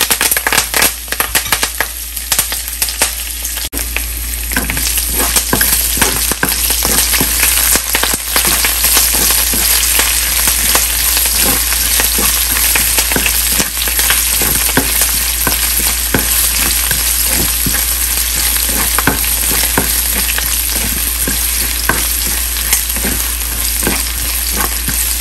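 Curry leaves, ginger, garlic and green chilies fry in hot oil in a pan, giving a loud, steady sizzle that runs throughout with light stirring scrapes and no talking.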